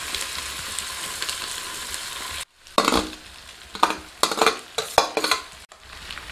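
Cooked rice being stirred with a spoon into citron seasoning in a hot pan, after a steady sizzle gives way to a series of close, irregular scraping and clinking stirs.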